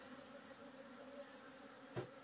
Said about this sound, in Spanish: Llegó un tremendo enjambre a la casa.